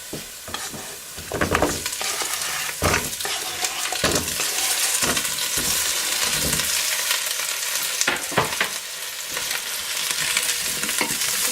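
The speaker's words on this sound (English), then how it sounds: "Onions are almost done, and I'm adding potatoes now here." Potatoes tipped into onions frying in oil in a pan for ajapsandal, a strong steady sizzle with repeated scraping stirs and clatters of the utensil against the pan throughout.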